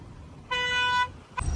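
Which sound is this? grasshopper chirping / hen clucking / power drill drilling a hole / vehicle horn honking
vehicle horn honking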